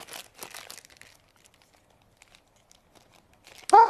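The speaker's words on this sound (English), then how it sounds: "It can't be that hard to get into a plastic bag." A plastic bag is crinkled and pulled at in short rustling bursts, going quiet in the middle before a sudden louder tearing crunch near the end.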